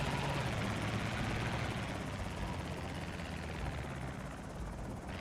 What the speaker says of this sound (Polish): Chyba się uspokoił się helikopter.